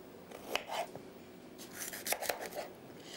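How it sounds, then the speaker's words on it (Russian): A knife finely chopping peppers for eggplant caviar, quiet irregular taps and scrapes on a board in short clusters, close by with no voices. "Вот это нужно перцы очень-очень мелко порубить."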